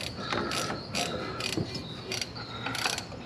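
A socket wrench ratchet clicks while snugging a bolt on a Clark Michigan 125A loader, several short bursts of rapid close metallic ticking in an uneven rhythm.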